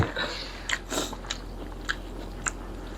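Someone bites into food and chews it, eaten raw and then cooked, with a few sharp crunchy bites spaced out over a quiet, close-up background.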